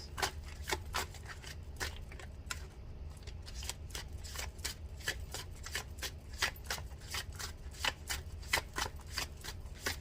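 Tarot cards are shuffled and drawn close up in a rapid, steady run of crisp riffling flicks lasting about ten seconds, at low volume with no speech.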